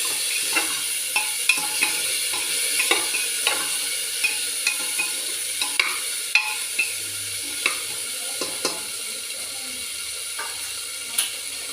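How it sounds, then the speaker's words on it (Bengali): Dalia khichdi stirred in a pan after tomato and ginger are added: steady frying sizzle with repeated soft scraping strokes of the spoon at a regular rhythm, close and fairly quiet. "টমেটোটা দিয়ে দেব, সাথে আদাগুলোও দিয়ে দেব, দিয়ে আমি এটাকে ভালো মতো নাড়িয়ে দেব।"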